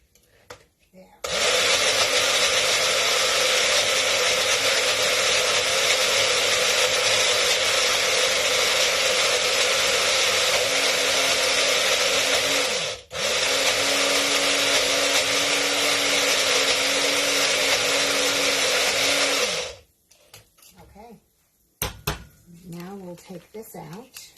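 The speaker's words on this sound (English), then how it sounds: "So I am going to just pour it in and close the lid, and we'll blend it again." Blender whirring loudly while blending herbed aioli dipping sauce, a steady broadband roar running about eighteen seconds with one brief pause midway, then stopping, followed by faint clatter.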